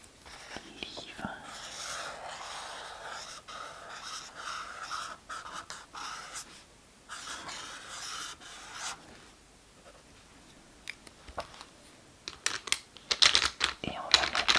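A pen scratches and rubs across paper in close, soft strokes, with some quiet whispering and a few light taps near the end.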